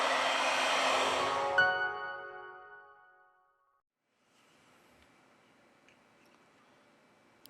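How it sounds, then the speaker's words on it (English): A heat gun blows hot air onto the back of an LG Q60 phone, a loud, steady rushing whoosh that fades out after about three seconds, leaving only faint room noise. "With the help of a heat gun, we apply 90 Celsius degrees during 4 minutes."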